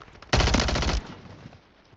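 A sharp burst of rapid automatic gunfire in Warzone 3 Plunder, loud and close, lasting well under a second before fading into a brief echoing tail.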